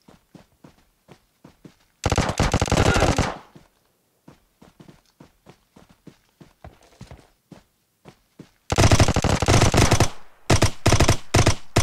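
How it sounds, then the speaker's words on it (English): Gunshots in the battle royale game PUBG Mobile come as two loud, rapid automatic bursts separated by a stretch of evenly spaced footstep-like thuds. The steps continue faintly in the gaps. "Oh, who's shooting at me?"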